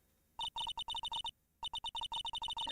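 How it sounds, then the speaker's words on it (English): An electronic phone ringtone in the Phoenix Wright video game rings after a redial: two bursts of rapid, evenly pulsed bright tones separated by a short silent gap, loud and alone. "You pressed redial on that there phone, didn't you?"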